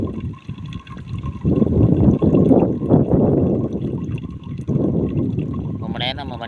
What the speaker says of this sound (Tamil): தண்ணி ரொம்ப மெதுவாக வருது.